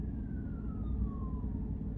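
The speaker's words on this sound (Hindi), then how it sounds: "तो यहाँ पे सायरन बज रहा था, मुझे लगा कोई एम्बुलेंस है।" A siren wails with a slowly falling pitch over steady traffic rumble, moderately distant and sustained.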